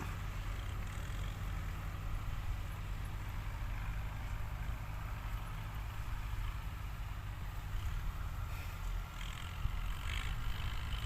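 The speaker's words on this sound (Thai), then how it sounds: "รถไถส้มเขาก็เนี่ยจะวิ่งอย่างเงี้ยครับ" An orange two-wheel walking tractor running through a sugarcane field, a faint, steady low engine drone heard from some distance, continuous without breaks or voices.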